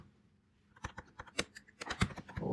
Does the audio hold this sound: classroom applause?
no